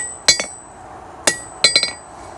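A hammer strikes titanium on an anvil in a failed forge welding attempt, four sharp metallic blows with ringing overtones, a single hit followed by a quick group of three.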